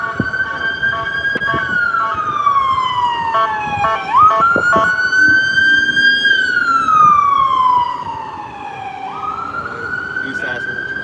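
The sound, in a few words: emergency vehicle sirens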